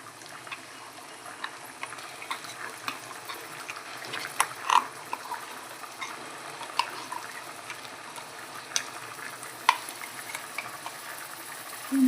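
Masala sizzles and fries in a pan while a spoon stirs it, giving a steady hiss with occasional clinks and scrapes, all close and moderately loud.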